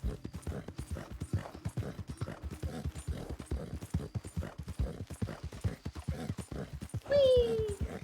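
Horse hooves gallop in Red Dead Redemption 2, a steady rapid clip-clop rhythm that runs the whole time, with a brief high squealing tone near the end.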